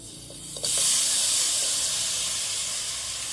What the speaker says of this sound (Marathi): इथे मी एक ही कढई ठेवली होती आता त्यामध्ये मी ॲड करत आहे गुळ